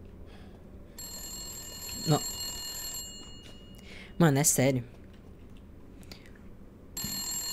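A telephone rings inside a house in the horror game Resident Evil Village, with sustained electronic ringing bursts starting and stopping around a tense, nervous player who speaks and exclaims between the rings.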